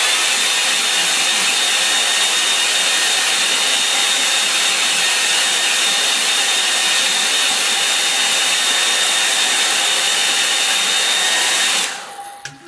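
A hair dryer runs steadily and loudly close by for about twelve seconds while drying a watercolour painting of a Kent landscape, its even whooshing hum cutting off abruptly at the end.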